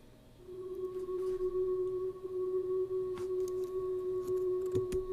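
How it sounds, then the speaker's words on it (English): A steady sustained synthesizer drone from Halo music holds a low tone with a fainter higher line above it, continuous and fairly quiet, with a few brief clicks. "Never underestimate the power of a drone like that."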